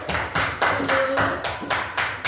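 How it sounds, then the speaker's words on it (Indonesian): Hands clap in a steady, even rhythm, about three claps a second, close and fairly loud with no talking. "Tepuk tangan dulu untuk kita semuanya."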